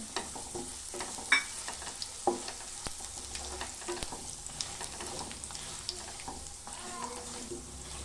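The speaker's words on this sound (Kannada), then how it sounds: "ಈಗ ಗಸಗಸೆ ಹಾಕ್ತಾ ಇದ್ದೀನಿ." Poppy seeds frying in a pan for a sweet, a faint, low sizzle with light scattered taps and scrapes of stirring, close-up but quiet, with no speech.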